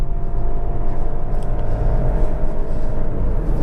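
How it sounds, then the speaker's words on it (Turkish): A 160 hp 1.8 TSI Volkswagen CC held at high revs in S mode while driving, giving a loud, steady engine drone and road rumble from inside the cabin with no break in the sound. "Devir çeviriyor sürekli S modunda olduğumuz için"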